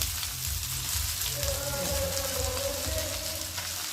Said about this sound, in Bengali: আর এখন আমি আস্তে আস্তে ভাতগুলোকে দিয়ে অল্প অল্প করে সবজির সাথে ভালো করে সুন্দর করে ভেজে নেব।